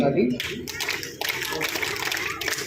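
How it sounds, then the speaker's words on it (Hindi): An audience claps in encouragement at the closing ceremony of an Arya Veerangana girls' camp, a dense, steady patter of many hands running for about two seconds over a murmur of voices. "उत्साहवर्धन के लिए वीरांगना ताली"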